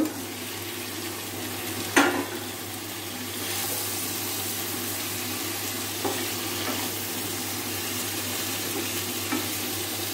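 Shrimp fry in spiced masala in a pan for prawn malai curry, giving a steady even sizzle with a low hum beneath and a few brief scraping stirs.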